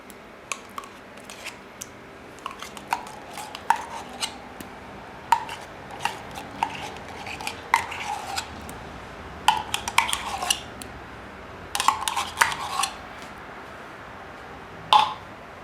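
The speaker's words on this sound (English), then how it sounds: "Just got a spoon and kind of dab that over the top." Tomato paste being dabbed from a small can over chicken pieces for a slow-cooker cacciatore with a metal spoon, giving a string of light, sharp clinks and taps against the can and dish, close up and irregular.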